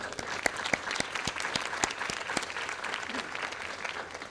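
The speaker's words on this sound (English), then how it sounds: "Let's give these folks a round of applause." An audience applauds Education Policy Fellows alumni at a Georgia Partnership critical issues forum held at the Georgia Film Academy, with a steady wash of many hands and sharp individual claps standing out, continuing for several seconds.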